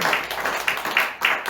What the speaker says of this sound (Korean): 박수를 하나님께 영광 돌려드리겠습니다